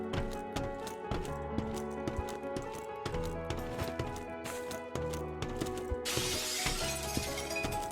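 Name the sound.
window being smashed in Firefighting Simulator The Squad video game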